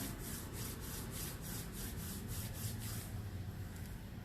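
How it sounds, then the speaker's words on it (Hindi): Two palms rub briskly together during a guided meditation session, a quiet rhythmic swishing of about three strokes a second that eases into a steady soft friction. "दोनों हथेलियों को रगड़ें"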